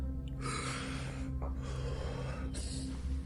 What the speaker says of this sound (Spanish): La respiración rítmica y lenta de algo invisible se mantuvo, más fuerte que antes.